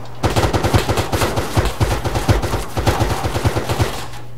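Rapid automatic gunfire in the video game Altis Life, loud and close, a sustained burst of fast regular shots running for several seconds with brief pauses.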